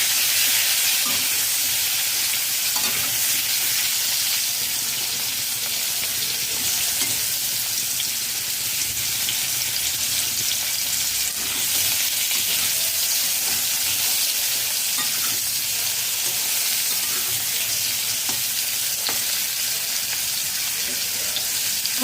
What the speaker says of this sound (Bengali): সিদ্ধ আলু ভেজে নেব